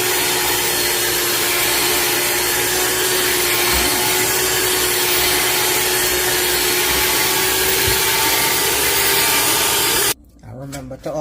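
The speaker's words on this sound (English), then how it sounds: "So let's get this to a little smoother texture with our mixer." An electric mixer beats Jamaican Christmas fruit cake batter with a loud, continuous whir that holds steady for about ten seconds, then cuts off abruptly, leaving quieter handling sounds.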